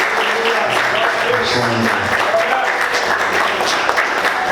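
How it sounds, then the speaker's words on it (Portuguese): A church congregation on a Sunday morning applauds the name of Jesus, a dense sustained clapping filling the room, with a voice audible through it. "Quantos podem aplaudir o nome de Jesus?"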